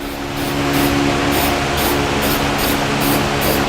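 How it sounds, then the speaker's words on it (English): Aerosol spray paint hisses steadily in a continuous close burst, coating the inside of a freshly drilled hole in the bed of a 2015 Chevrolet Silverado pickup. "I'm going to come back with a little bit of spray paint I'm going to spray the inside of that hole I just drilled"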